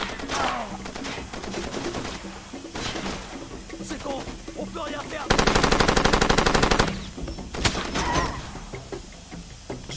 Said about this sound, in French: Ils arrivent à me tirer dessus